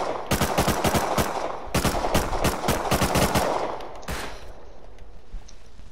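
Rapid automatic gunfire in a video game rattles out in several loud, close bursts, then gives way to a quieter tail.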